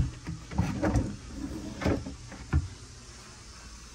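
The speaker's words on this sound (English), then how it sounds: "And you have several drawers here." Several drawers in a compact two-berth cruise ship cabin aboard Carnival Paradise slide open and shut, giving a few soft wooden bumps and rattles in the first half, then a single clunk before a quiet room tone.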